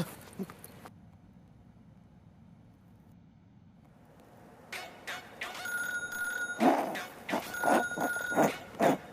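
Quiet at first, then a phone rings in repeated bright electronic bursts that grow louder and continue to the end.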